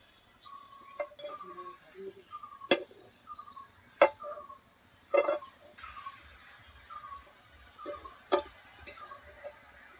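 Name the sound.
stirring pumpkin greens with salt in a hot wok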